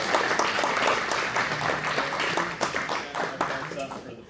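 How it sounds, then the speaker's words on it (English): Audience at a late-night personal aircraft maintenance session breaks into a steady round of applause that runs through the whole stretch, dense overlapping claps mixed with talk and cheering, loud and close. "round of applause for"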